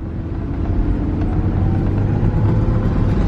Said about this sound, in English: The first drive in this car.